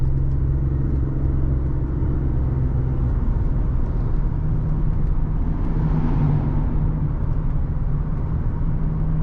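A 2014 Ford F-150 Platinum pickup cruises on a highway, heard from inside the cab as a constant, loud low rumble of engine and road noise with no voices.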